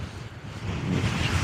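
A gust of wind sweeps across an exposed slope above the tree line, a broad rushing roar that builds and grows louder toward the end, with no voices.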